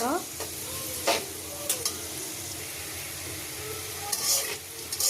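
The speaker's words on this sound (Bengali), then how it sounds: "এই যে লাল লাল করে আলু ভাজি হয়ে গেছে" Potatoes frying in oil in a pan for a rohu fish head muri ghonto, a steady close sizzle with occasional stirring scrapes and clinks against the pan.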